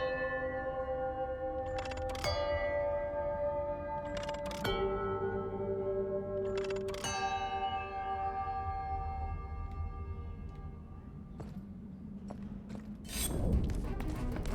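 Bells in the video game Chants of Sennaar, struck one at a time every few seconds, each a clear ringing tone with rich overtones that hangs and slowly fades over quiet ambience, ending in a soft thud.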